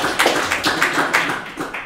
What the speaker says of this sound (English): So everyone give a round of applause for Phil.